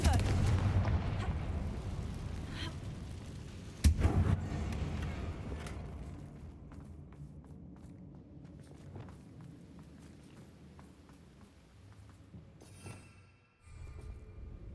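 Confringo fire spell explosions in the video game Hogwarts Legacy, a sharp blast near the start and a rumbling roar that fades, with footsteps and faint voices around it.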